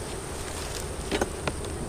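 A steady, dense buzz of many honey bees close by at the hive during a spring inspection, with a few louder individual bees briefly passing near.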